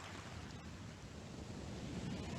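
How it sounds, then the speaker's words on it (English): Waves wash onto a beach in a continuous low roar and rush of surf, faint and steady throughout with a windy, rumbling texture and no talking. "Can you hear the sound of the water?"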